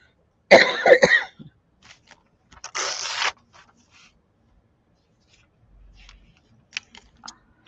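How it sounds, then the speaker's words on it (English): Paper rips as scissors stick mid-cut: a sharp ragged tear followed by a second longer rasping tear, close and alone, with small rustles and taps after. "My scissors stuck, so it tore."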